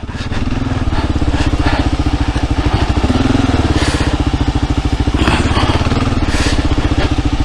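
A Kawasaki KLR 650 motorcycle is ridden off-road on trails, its single-cylinder engine thrumming steadily and loud throughout, with a rapid pulsing beat and wind noise over the top.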